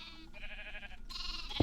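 Sheep bleating in the Minecraft video game, at a sheep breeding and wool farm: a short, wavering, nasal bleat lasting over a second, fairly close, followed by a brief thump.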